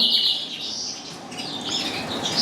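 Small birds chirp and flutter indoors in a high-ceilinged aviary room where young birds are kept for moulting, with thin high calls overlapping steadily and wing flaps among them, fairly close and alone.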